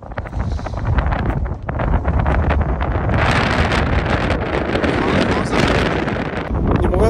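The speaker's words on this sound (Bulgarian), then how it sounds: "скапания вятър духа много силно" Strong wind blasts across a high mountaintop in the Rhodopes, roaring and buffeting a handheld phone microphone in loud, continuous gusts that swell and surge throughout.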